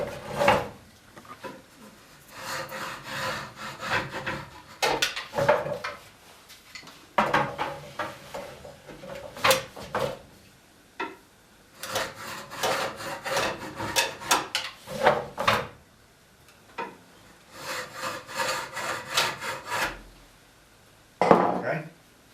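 A marking gauge scribes lines along a wooden arm rail in repeated scraping strokes, several bursts of close, dry rasping separated by short pauses, with a sharper knock near the end.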